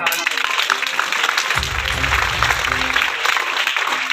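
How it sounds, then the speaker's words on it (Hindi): Schoolchildren clap together at a Children's Day school celebration in a forest village, a steady, dense patter of applause under an adult voice speaking over it. "तालियां से स्वागत करें।"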